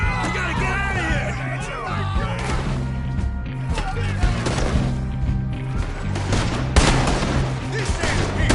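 Gunfire from Red Dead Redemption 2 crackles in bursts of repeated shots amid a chaotic shootout, with shouting voices and a horse's whinny mixed in.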